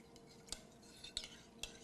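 A spoon stirs sweet and sour sauce ingredients, lemon juice among them, for pork chops, tapping the container in three sharp clinks spaced about half a second apart over faint background hiss.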